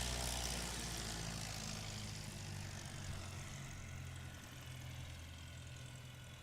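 Light aircraft propeller engine at a STOL landing competition at Patriot Airpark in Pocola, Oklahoma, droning steadily with a low hum and fading gradually as the throttle comes back, heard alone without talk.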